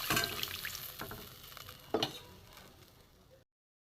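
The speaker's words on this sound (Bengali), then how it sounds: "মশলা গ্রেভিটা ফুটে উঠেছে" Spiced masala gravy with chilli, cumin and coriander powders and water simmers in a pan, giving a steady soft sizzle and bubbling with a few faint stirring clinks, near and alone.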